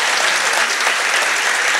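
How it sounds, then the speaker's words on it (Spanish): Steady, dense applause from a crowd at a live show, loud and continuous throughout with no pauses. "un aplauso para ti"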